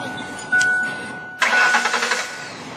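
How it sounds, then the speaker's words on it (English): A truck engine cranks and catches, with a short crank burst followed by a longer start that settles into a rough, pulsing run; loud and close. "having problems starting the truck"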